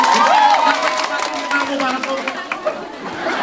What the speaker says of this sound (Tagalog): Walang sawang pagpalakpak. Sample palakpakan!